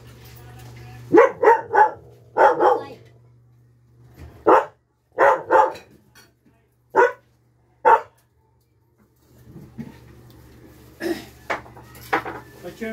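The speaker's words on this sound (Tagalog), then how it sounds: "May aso." A dog barks in short bursts, several quick barks then pauses, fairly close, over a low hum, with clinking dishes and some talking.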